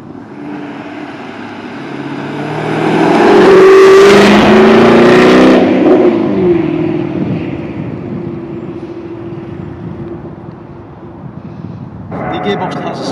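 A Jaguar F-Type R V8 with automatic transmission accelerates on the road, its engine note rising to a loud, rasping peak, then settling into a steadier cruising drone with a gear change and road roar.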